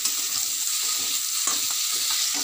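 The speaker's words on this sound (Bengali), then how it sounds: "আর দেখো এদিকে আলুটা একটু কষিয়ে নিচ্ছি" Potatoes sauté and sizzle steadily in a hot pan, with a spatula scraping and stirring through them in irregular strokes; close and continuous, no voices.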